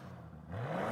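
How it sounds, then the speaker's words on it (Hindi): Lamborghini Urus engine starting after a lever is lifted: a low whir builds into a rising mid-pitched rev that swells louder toward the end, close and steady with no talk. "किसी जेट फाइटर की तरह आप इस लेवर को उठाइए और इंजन जो है वो स्टार्ट आप कर सकते हैं"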